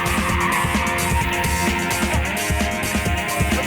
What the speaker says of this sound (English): The amazing Russ Swift will be handbrake turning all day, every day, till the show closes on November the 3rd